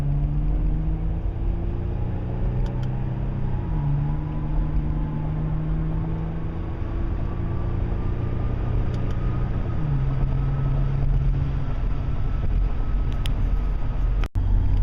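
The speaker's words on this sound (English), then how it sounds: "Let's just drive with this fucking car." A car drives at a steady, continuous engine drone, close and fairly loud, and the pitch shifts through a couple of gear or speed changes. No one speaks.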